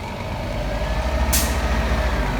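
A fire truck responding to a fire alarm idles loudly with a deep engine rumble, and midway a single sharp burst of air brake hiss cuts in before the engine drone carries on.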